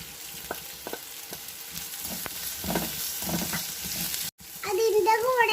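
Cut potatoes hitting a pan of softened onions and frying, with steady close sizzling, a few scraping stirs, and a brief dropout before the sizzle surges louder and more crackly.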